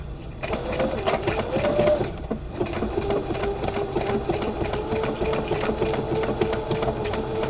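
A sewing machine runs steadily on its own, a continuous buzzing whir with a rapid needle chatter and a brief dip near the two-second mark before resuming, close and fairly loud, with no talk.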